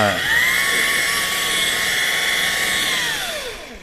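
A rotary buffing pad spins at low speed, about 1,000 RPM, on a wet, foggy headlight lens, giving a steady whirring drone that holds level for several seconds, then winds down in pitch near the end.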